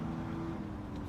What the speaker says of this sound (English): You turn on the GT, bro, like you hear that engine, you know it's a Mustang